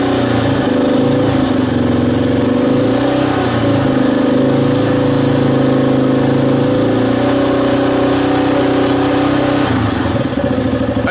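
A Yamaha XT250 motorcycle engine idles steadily and loudly up close during warm-up, a continuous mid-pitched chug with a brief throttle blip near the end.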